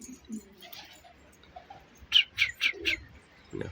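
Pigeons in a rooftop loft give a quick run of four short, bright calls in the middle, with faint shuffling and quiet background sounds before and after.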